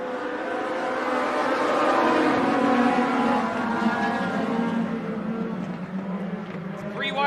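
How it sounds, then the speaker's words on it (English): Legends race cars roar around Benton County Speedway at the start of green-flag racing in a 15-lap main event, a loud continuous engine drone that rises and shifts in pitch, with a voice talking over it. "We are green flag racing for the INX Legends."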